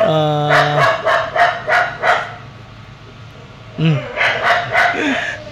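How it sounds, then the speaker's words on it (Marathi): Dogs bark in quick bursts, several sharp barks in a row, a pause, then another volley, fairly close and loud. "आता कुत्रे भुंकत आहेत."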